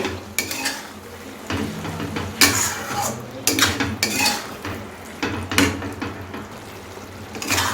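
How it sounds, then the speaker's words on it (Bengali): Bottle gourd cooking with poppy seed paste in a pan for Bengali lau shukto, stirred with a spatula that scrapes and clatters against the metal in uneven bursts, close and fairly loud. "মাঝে মাঝে কিন্তু নেড়ে দিতে হবে, না হলে পোস্ত তলায় লেগে যেতে পারে।"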